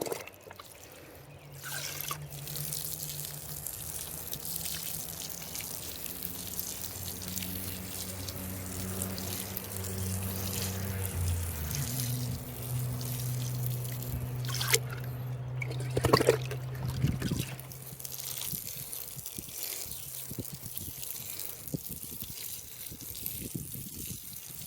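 Water pours and trickles onto freshly planted bean rows in a vegetable garden, a soft continuous flow with occasional splashes and a faint steady hum underneath.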